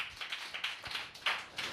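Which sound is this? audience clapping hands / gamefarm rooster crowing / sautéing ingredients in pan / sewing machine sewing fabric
audience clapping hands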